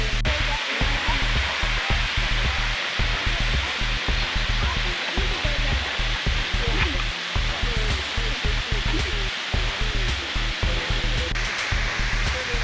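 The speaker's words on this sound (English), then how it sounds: "And there it is, not terribly impressive as the water flows very low." Steady broadband rush of falling water, continuous and even throughout, a modest low-flowing waterfall near Stumphouse Tunnel, South Carolina, heard from nearby without voices.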